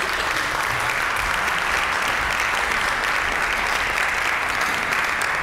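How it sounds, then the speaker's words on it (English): Steady, dense clapping from an audience at a high school senior awards night, sustained evenly for honored award recipients without pause. "You can go ahead and clap for them"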